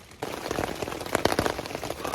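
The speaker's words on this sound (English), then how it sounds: "Well, as you can hear, it's raining." Rain pattering on a tent while camping on the Appalachian Trail, dense close drops with irregular louder taps, steady and fairly loud after a quiet start.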